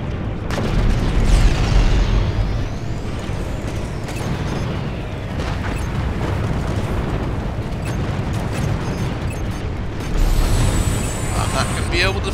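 Torpedo blasts thunder through a Strike Suit Zero space battle, heavy booming explosions layered over a constant roar of combat noise, with another strong burst swelling near the end.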